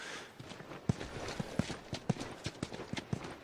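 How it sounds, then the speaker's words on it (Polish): A horse's hooves clip-clop at a steady walking pace in The Last of Us video game, close and distinct over low ambient game sound. "Joel, potykaj konia po dupie"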